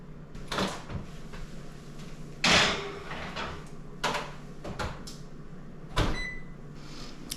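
A home oven door in a kitchen swings open and thumps shut as a tray of banana nut muffins goes in to bake, giving a few distinct clunks and knocks over a low room hum.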